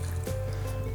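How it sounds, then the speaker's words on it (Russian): Dirty water is poured into a homemade filter, giving a brief splashing gush over a steady low hum. "Вот мы ее туда наливаем."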